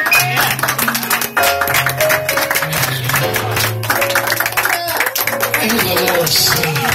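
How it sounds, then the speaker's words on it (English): A congregation claps along at a Friday night church service, with sharp hand claps punctuating loud, steady music and voices throughout. "And will you clap your hands for power?"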